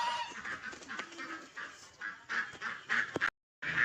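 Several ducks quack repeatedly nearby in a noisy, overlapping chorus, with brief pauses between bursts.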